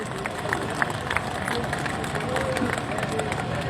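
Applause breaks out for the sisters at a government employees' night-time sit-in protest at Secretariat Chowk, a thin, scattered clapping under a dense, steady hubbub of crowd chatter and noise.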